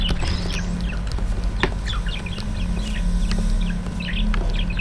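Birds chirp in short, bright, repeated calls over a steady low hum and background noise, fairly close and scattered throughout, with a few sharp knocks mixed in.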